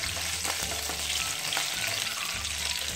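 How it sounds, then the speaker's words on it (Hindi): Curry leaves and two green chilies fry in hot oil in a pan for lemon rice, a loud, steady sizzle close up with faint stirring scrapes throughout. "अब मैं इसमें डालूंगी करी पत्ता और 2 हरी मिर्च, इसे भी थोड़ा सा भून लूंगी।"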